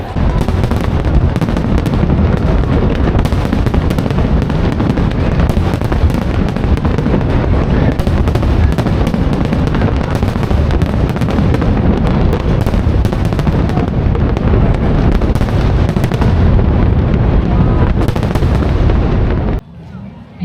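Singapore National Day fireworks crackle and boom in a dense, nonstop barrage for about twenty seconds, loud and close, with faint crowd noise underneath before an abrupt drop near the end.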